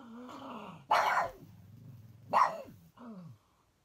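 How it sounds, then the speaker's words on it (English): A female dog barks indoors, two sharp close barks about a second and a half apart, with softer growly vocal sounds between and after them. "What are you barking at?"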